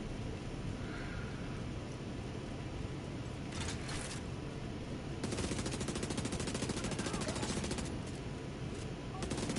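An SMG in The Division 2 fires in rapid automatic bursts: short crackling volleys first, then a longer sustained stream of shots over steady game ambience.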